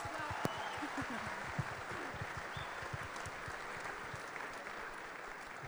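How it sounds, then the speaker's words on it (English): Sustained applause from a large audience at a Christian camp gathering welcoming newcomers, dense and steady clapping throughout with a faint crowd murmur. "can you just give them a round of applause to welcome them?"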